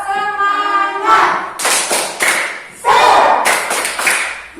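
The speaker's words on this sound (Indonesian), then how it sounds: "Tepuk semangat." Schoolchildren in a classroom perform the tepuk semangat clapping chant: a sung voice opens, then bursts of rhythmic hand claps arrive in short grouped phrases, loud and close, with voices mixed in.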